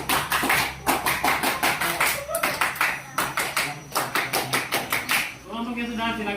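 A group of people perform a rhythmic scout clap in a classroom lesson, bursts of sharp, synchronized hand claps in repeated patterned sequences, close and loud, ending with a voice speaking.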